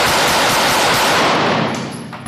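Rapid bursts of gunfire from a Heckler & Koch SP5k pistol at a shooting range, loud close-up cracks blending into a dense volley that tails off near the end.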